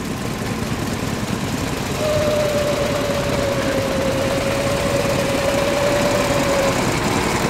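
An antique car engine with hot-tube ignition, slow-revving and kept under 1000 rpm, runs nearby with a loud, steady knocking chug and a rattling vibration, a faint whine running above it partway through.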